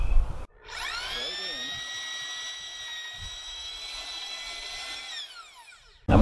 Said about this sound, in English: So I'm just going to start drilling.